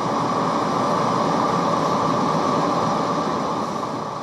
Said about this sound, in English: Perform a brake application on this train of 20 cars to see this process in action.